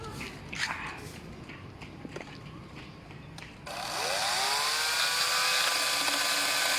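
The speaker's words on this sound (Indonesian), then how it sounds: "Nah, ini review gergaji cordless DCK." Quiet rustling and handling noises, then a DCK KDML250BM cordless brushless chainsaw motor whirs up abruptly and runs steadily at a loud, high-pitched whine, cutting ketapang wood, until the end.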